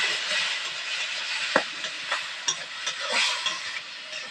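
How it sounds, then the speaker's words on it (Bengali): Spice paste of chilli powder, turmeric and a splash of spiced water is stirred in a hot pan, with a steady sizzle under scattered scraping clicks from the spoon, close up and without speech. "সামান্য একটু হলুদ একটু মশলার জল দিয়ে দেবো একটু নাড়াচাড়া দিয়ে নেবো"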